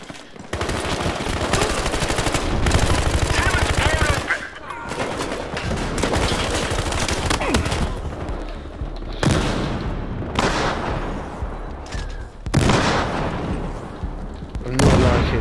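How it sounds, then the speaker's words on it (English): Sustained automatic gunfire from a weapon in the video game Battlefield Hardline during online multiplayer, loud and dense bursts with brief pauses and several fresh volleys, mixed with game effects and a voice speaking at times. "I'm not liking this recoil from shooting this gun because it just bounces everywhere."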